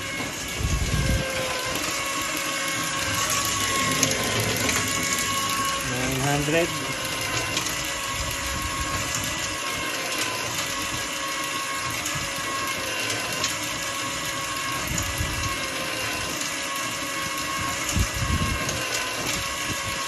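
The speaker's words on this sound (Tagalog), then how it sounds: "Nakita nyo, parang hindi na napapagod yung motor." Electric motor of a homemade automatic water pump runs steadily with a dense mechanical hum and whine throughout, loud and close, with a few brief rattling bursts along the way.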